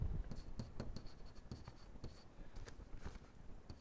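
A pen or marker scratches out maths steps on a writing surface in a quiet room, with soft, irregular strokes and taps that continue throughout, faint and close, and no talk.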